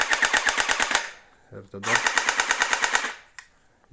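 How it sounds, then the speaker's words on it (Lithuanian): A compact MK416 gel blaster with a 7.4 V battery fires in electric mode in two rapid bursts of sharp, evenly spaced clicks, close and loud. A short voice is heard between the bursts. "šautuvą šaudo."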